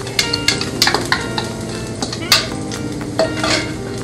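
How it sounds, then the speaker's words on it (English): Garlic sautés in olive oil in a pan, with a steady sizzle under repeated clinks and scrapes of a utensil stirring against the pan. "we are going to saute, or we're going to put our garlic in, put a little bit of olive oil in your pan"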